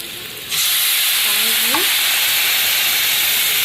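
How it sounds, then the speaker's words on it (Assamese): Spices in a pan with a little water, starting with a loud, steady sizzle and hiss close by that holds constant throughout. Faint stirring is heard under the frying. "দি এইখিনি ভালকৈ ভুনি ল'ম"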